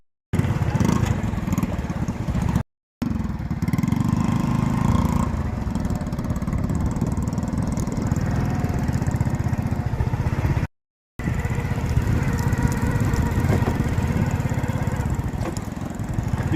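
A motorcycle engine running steadily as the rider travels along a rural track toward wheat and mustard fields in district Kamber Shahdadkot, a loud continuous drone close by with a couple of brief dropouts.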